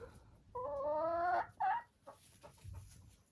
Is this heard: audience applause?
no